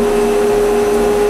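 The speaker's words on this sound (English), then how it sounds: "The suction is so great that the whole setup moves." A dust collector with a small cyclone runs with strong suction, a loud, steady whooshing roar with a constant low hum, close and alone.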